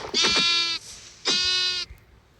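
A sheep in the video game Minecraft bleats twice when struck, two loud, clear, wavering cries about half a second each, separated by a short pause, with no talk over them.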